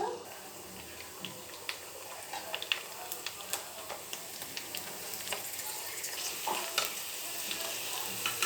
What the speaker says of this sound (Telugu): పానీపూరీలు ఎప్పుడు కూడా మనకి మీడియం ఫ్లేమ్లో పెట్టి ఫ్రై చేసుకోండి